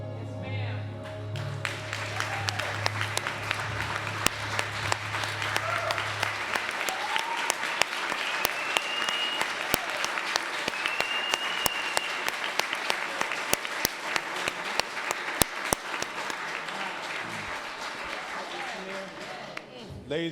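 A City Council meeting audience breaks into sustained applause, dense clapping that holds steady for about twenty seconds, with a low background hum early on and scattered voices and cheers mixed in.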